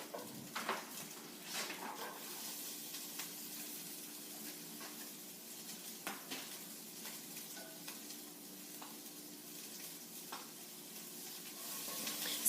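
Chopped onions and pressed garlic sizzle steadily in a pot for chorizo and kale soup, a soft continuous frying hiss with occasional stirring scrapes and no talking.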